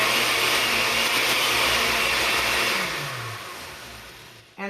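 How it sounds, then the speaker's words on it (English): A blender runs continuously, blending butternut squash soup with a loud, steady whir that slowly winds down in pitch before a brief bump at the end. "And I'm going to continue mixing it until it's absolutely smooth."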